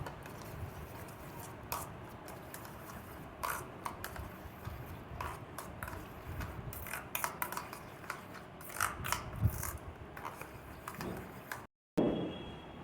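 Two cracked eggs are whisked into a paratha mixture in a bowl, producing rapid, uneven clicking and tapping at a fairly low level. The sound breaks off in a short gap near the end.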